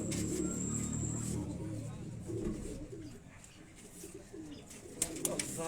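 Fancy Master Abdullah-line pigeons give soft, repeated cooing in a Quetta loft, heard beneath a man's steady speech, with a couple of brief clicks toward the end.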